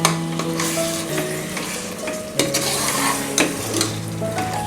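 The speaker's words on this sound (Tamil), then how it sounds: "எல்லாத்தையும் நல்லா புரட்டி விட்டு" Mutton for biryani being stirred and fried in a pan at home: steady close sizzling under repeated scraping and clinking of a spoon against the pan, with no talking.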